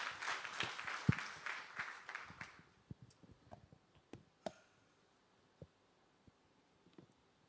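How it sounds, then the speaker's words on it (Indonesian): A church congregation claps in praise during a service, a dense burst of applause that fades after a couple of seconds into scattered single claps and small knocks in a quiet room. "Boleh tepuk tangan bagi Tuhan."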